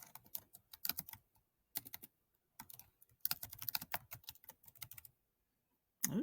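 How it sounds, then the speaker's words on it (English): Fingers tap quickly on a computer keyboard in short bursts separated by pauses, with close, crisp key clicks and one louder clatter at the end. "having trouble typing"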